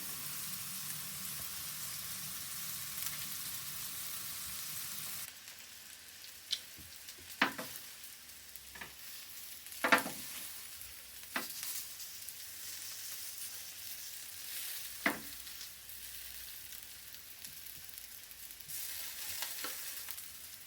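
Food frying on a Blackstone E-Series 22-inch electric griddle set up indoors on a table, giving a soft steady hiss with a few sharp pops and clicks scattered throughout, fairly quiet and close with no talking.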